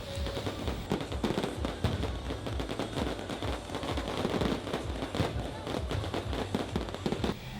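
Independence Day fireworks crackle and pop at night in a downtown area, a dense, continuous barrage of sharp bangs and sizzling crackles that stays loud throughout, with faint crowd voices mixed in.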